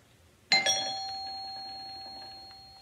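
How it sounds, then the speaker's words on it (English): A doorbell rings once, a clear two-tone ding-dong chime that starts abruptly and then rings out slowly in a quiet room. "It's the doorbell."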